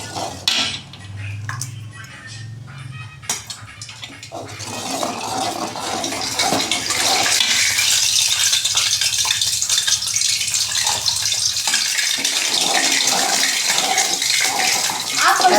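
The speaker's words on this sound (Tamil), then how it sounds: "எண்ணெய் சூடாகிட்டு இருக்குது அதை இதில் ஊற்றி மிக்ஸ் பண்ணிக்கலாம்" Hot oil is poured into a gram flour mixture for Mysore pak: a few utensil clinks at first, then a loud, steady bubbling hiss rises and carries on to the end. There is no talking.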